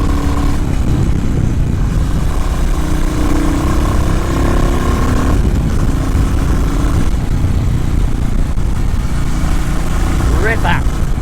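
A Royal Enfield 350 Reborn motorcycle runs steadily while riding through hilly country, its low engine rumble continuous beneath heavy wind noise throughout.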